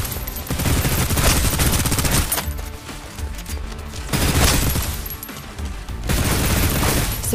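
Suppressive gunfire from the video game Snowbreak: Containment Zone, loud and dense, with sustained rapid-fire bursts broken by brief lulls and then resuming at full intensity.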